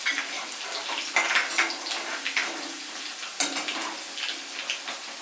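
Green chillies frying in hot oil in a pan for an onion curry, a close, bright crackling sizzle with bursts of spitting pops over about five seconds.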